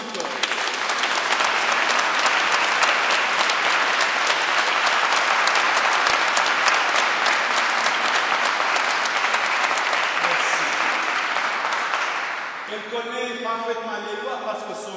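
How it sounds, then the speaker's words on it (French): A room full of people applauds a French-speaking woman introduced at a presentation. Dense, steady clapping holds for about twelve seconds, then fades as a voice begins talking. "nous applaudissons encore."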